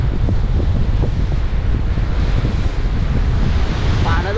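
Kalu waterfall at Malshej Ghat sends down a forceful torrent, a loud continuous roar of rushing water mixed with heavy wind buffeting close by.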